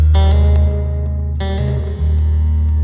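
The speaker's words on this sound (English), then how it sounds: "It sounds like a classic spring verb." A guitar chord rings out through the spring reverb of a Blackstar St James amp, then a second chord is struck, each trailing off with a splashy, echoing tail.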